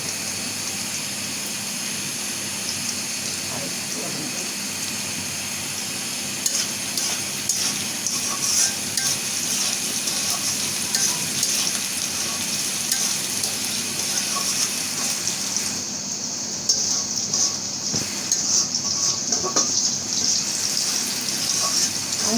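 Onion, garlic and chili frying in a pan for jute leaf (pat shak) bhaji give a loud, steady hiss with a washing, rushing quality, continuous throughout with slight shifts in intensity.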